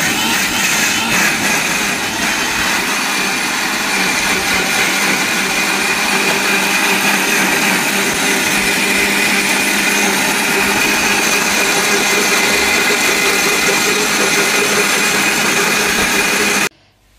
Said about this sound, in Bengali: এই যে বাবুর খিচুড়ি এখন ব্লেন্ডার করব